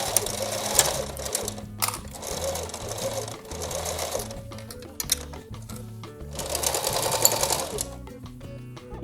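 A sewing machine stitches pant panels together, running loudly and steadily up close in a dense mechanical chatter that speeds up and slows down over several seconds, with no one talking.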